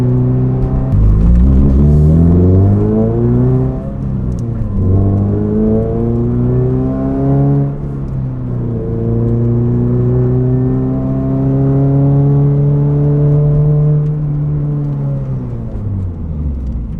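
A Toyota GR86 accelerating hard at speed, its engine note climbing through the gears with rising harmonics, dropping at each shift and then pulling up again. The sound is loud and close, heard from inside the car, with no talk.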